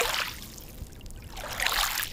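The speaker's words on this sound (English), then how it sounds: "The sound of waves greets visitors to Martha Washington Park." Waves washing in at Martha Washington Park on a Seattle lakeshore, a rushing surge that fades to a low murmur and swells again, steady and close.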